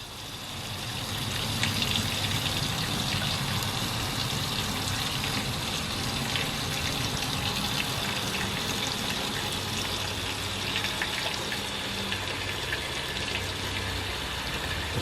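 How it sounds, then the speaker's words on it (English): Gasoline pouring fast from a Fuelworx gas can with its vent button pushed open, a steady rushing, gushing stream that holds evenly for the whole stretch. "You can hear the gasoline pouring like crazy."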